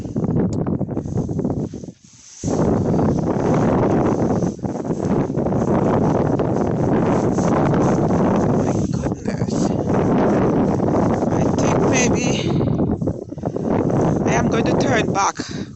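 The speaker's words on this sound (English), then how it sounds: "Oh my goodness, the wind." Strong winter wind roars and buffets the microphone in a steady, loud rush during a snowy walk, briefly dropping away before surging back, with a voice talking over it.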